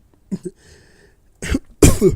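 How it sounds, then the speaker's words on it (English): Someone coughs after swallowing wrong: a pair of small throat clicks, then two harsh, close coughing bursts, the second louder, with no talking. "That was like a combination of me coughing, but then I was trying not to cough, so then I swallowed wrong"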